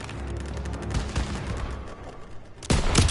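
Sustained rifle and machine-gun fire rattles across a D-Day beach battle in a war video game, shots overlapping in a continuous loud fusillade, ending in a heavier close burst.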